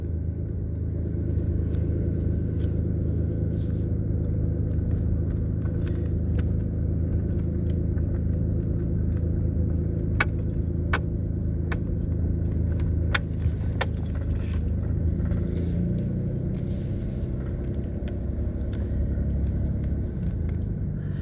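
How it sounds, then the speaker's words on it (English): A vehicle rolls along a bumpy gravel road with a continuous, close engine and tyre rumble, while loose keys jangle and rattle throughout with each jolt. "This gravel road is bumpy."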